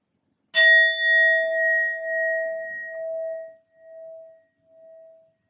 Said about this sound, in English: I'm going to be using my sound bowl to clear and set the energy